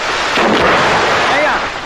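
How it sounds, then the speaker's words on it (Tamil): A firecracker explodes in one loud, booming bang that rolls into a rumbling, echoing decay lasting under two seconds. "இப்ப வெடி வெடிச்சதே அந்த சத்தம் கேட்கலையான்னு கேட்டேன்."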